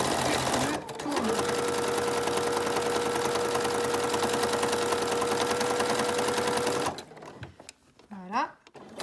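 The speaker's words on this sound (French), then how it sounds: "Je couds à environ 5 mm du bord." A sewing machine stitches a fabric jewellery pouch in one long, steady run of close mechanical whirring, stopping near the end, where a voice talks briefly.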